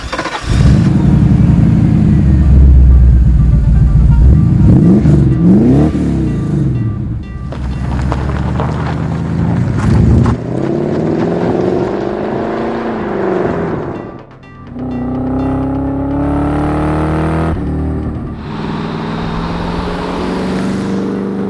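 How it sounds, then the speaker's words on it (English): A modified Mercedes 560 SEC C126 coupe with a V8 is driven, its engine note loud and steady throughout, rising and falling with throttle and gear changes, with brief dips in level. "So let's take it for a drive and see what it's like."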